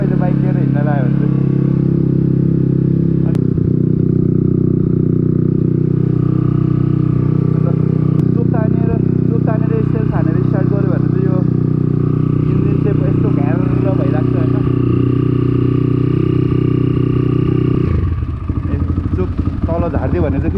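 A motorcycle idles with the choke pulled, its exhaust loud and steady in a constant low throb that carries close up throughout, with a shift in tone near the end.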